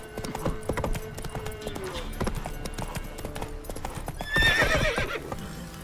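A horse gallops in The Witcher 3, with rapid rhythmic hoofbeats close by throughout and a loud whinny near the end.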